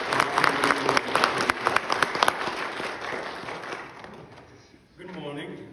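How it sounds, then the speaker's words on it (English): A church congregation claps for Chris Moore III, an Eagle Scout, with loud scattered sharp claps that thin and fade out before a voice starts speaking near the end. "can we give Chris just a little round of applause for you guys?"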